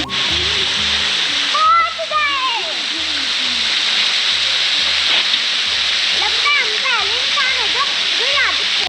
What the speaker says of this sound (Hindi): ये है चैडविक वाटरफॉल